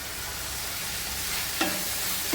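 Crushed garlic added to sautéing onions for a Tamil anchovy dry fish thokku sizzles in a hot pan with a steady close hiss, and a single scrape of a spoon stirring sounds near the end.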